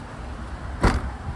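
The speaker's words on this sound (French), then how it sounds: "le coffre qui se ferme électriquement" An electric tailgate closes on a BMW X5 xDrive30d, ending in a single short, solid thud close by over a quiet background.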